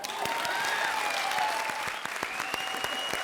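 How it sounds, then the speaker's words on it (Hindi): Studio audience applause on a televised comedy show, a steady dense wash of many hands clapping at close range, continuous and fairly loud throughout with no talk over it. "तालियां।"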